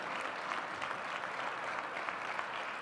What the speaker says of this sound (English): I want to give them a huge round of applause